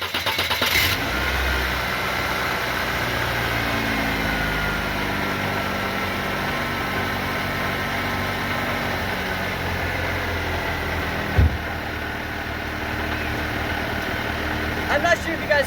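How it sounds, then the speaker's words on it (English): A Saturn car engine runs steadily at idle with a worn, failing AC compressor rattling under the hood, a continuous low drone heard close without talk. "something is rattling underneath the hood of my Saturn. It turns out my AC compressor is now completely shot."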